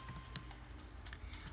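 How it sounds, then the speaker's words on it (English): Computer keyboard keys tapped while playing Blox Fruits, a scatter of quiet, quick clicks over a faint steady background hum. "you have to press Z on the keyboard to quick tackle like this"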